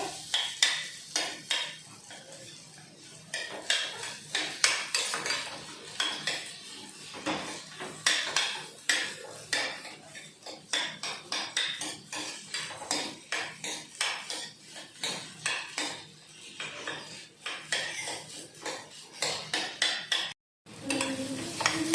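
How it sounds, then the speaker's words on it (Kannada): Boiled sweet potato is stirred and fried in ghee, a spoon scraping and clanking against the pan in quick, repeated strokes over a faint sizzle, loud and close for a long stretch, with one brief dropout near the end. "ಈಗ ಇದನ್ನು ನೋಡಿ ಚೆಂದಾಗಿ ನಾನು ತುಪ್ಪದಾಗ ಫ್ರೈ ಮಾಡ್ಕೊಳಕತ್ತೀನಿ"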